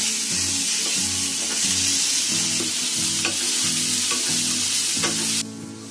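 Onion and tomato masala sizzles steadily in a pan while a spoon scrapes and stirs it in regular rhythmic strokes, close and clear; the frying continues to the end as the stirring stops.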